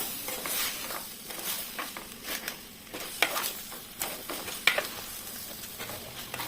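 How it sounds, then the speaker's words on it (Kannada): Boiled chickpeas and elephant foot yam are stirred into a sizzling masala in a pan, with soft scraping strokes and faint frying crackle at an irregular rhythm, close up. "ಇವಾಗ ಇದಕ್ಕೆ ನಾವು ಬೇಯಿಸಿಕೊಂಡಂಥ ಕಡಲೆ ಮತ್ತು ಸುವರ್ಣಗೆಡ್ಡೆಯನ್ನು ಇದಕ್ಕೆ ಸೇರಿಸಿ ಒಮ್ಮೆ ಚೆನ್ನಾಗಿ ಮಿಕ್ಸ್ ಮಾಡುವ"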